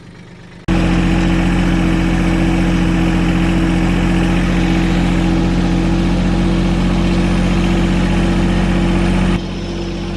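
A tractor engine runs steadily at a loud, close, low rumbling idle with a constant hum, starting abruptly and continuing unchanged for several seconds while it works to pull a dually Dodge Ram pickup stuck in Texas mud.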